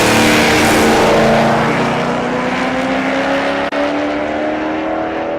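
Jeff Short's OBS truck roars loud and close in the right lane of a drag race at SRCA Dragstrip in Great Bend, the engine note holding a steady high drone that fades slightly toward the end.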